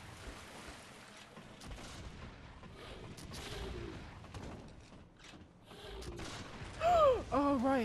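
Loud rifle shots in Bloodborne, booming like a cannon over a dark game soundscape, with faint clattering and a brief tonal sweep near the end; a voice talks quietly underneath.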